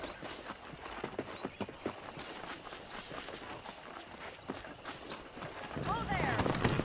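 Horse hooves clip-clop over ground in the Western video game Red Dead Redemption, a quiet uneven walking rhythm amid ambient outdoor sound, with a neigh near the end.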